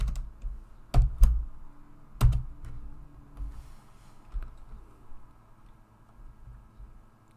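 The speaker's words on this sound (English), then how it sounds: "I'm typing. How fucking hard do I gotta fucking type?" Hard typing on a computer keyboard during a game: a few loud clustered key strikes followed by softer scattered clicks, close and alone with no talk.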